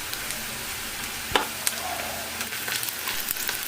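Chopped onion pieces and a sprig of curry leaves fry in hot oil, a steady close sizzle broken by a few sharp pops and spatters, with no one talking.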